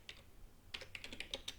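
Keystrokes on a computer keyboard entering a command in a Kali Linux terminal: a brief tap near the start, a pause, then a quick run of about eight close, crisp clicks.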